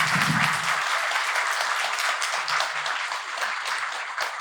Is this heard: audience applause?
yes